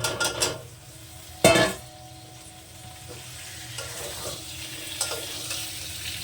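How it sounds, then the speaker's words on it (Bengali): Boiled potatoes are stirred and fried in oily spice masala for aloo dum with peas, a soft sizzle running underneath sharp scrapes and clatters of a utensil against the pan, loudest early on. "এবার সুন্দর করে নেড়ে চেড়ে কষে নেব সেদ্ধ করা আলু"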